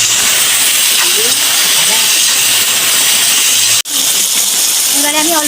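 Chicken pieces with salt and turmeric fry for a tomato chicken dish, making a dense, constant sizzle with a brief cutoff near the end. A voice talks over it at moments.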